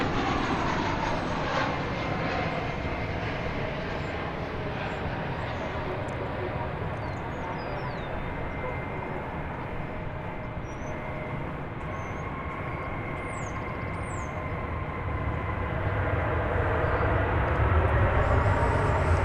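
An American Airlines jet arriving from Milwaukee at DFW Airport roars steadily and loudly close by, a continuous broad engine rumble that swells slightly toward the end.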